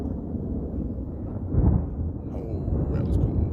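Deep rumbling thunder from a storm overhead, a low rolling boom swelling loud around the middle and again near the end, heard outdoors with faint background voices.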